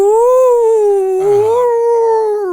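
A person imitates a werewolf howl, a loud, close, sustained wavering voice that rises and falls in pitch for a couple of seconds without breaks.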